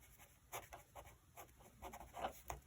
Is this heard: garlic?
no